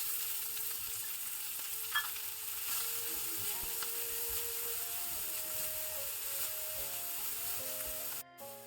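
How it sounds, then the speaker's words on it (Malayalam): Finely chopped onion sautéing in a pan for a soya chunk curry, with a steady, even sizzle and soft stirring scrapes, close and moderately quiet, over a faint musical background. "ഇനി ചെറുതായി അരിഞ്ഞ സവോള ചേർത്ത് നല്ലതുപോലെ വഴറ്റാം."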